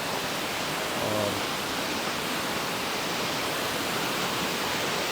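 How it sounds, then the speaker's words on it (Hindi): A small waterfall at Kailash cave in Jashpur rushes in a steady, unbroken roar of falling water, close and fairly loud, with no voices. "बहुत छोटा लेकिन बहुत खूबसूरत है ये वाटरफॉल"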